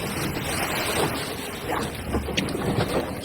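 A new fishing boat under way on a choppy sea in northeast monsoon wind, with steady wash of waves and wind buffeting the microphone throughout, engine drone buried in the rough water noise.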